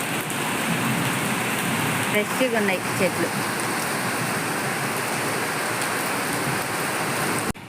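Steady, dense rain pours down onto garden trees and plants, a close, continuous hiss throughout, with someone speaking briefly near the start.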